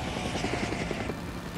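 Helicopter in the video game Days Gone, a dense, loud rotor drone with a fast pulsing chop that stays close and constant throughout.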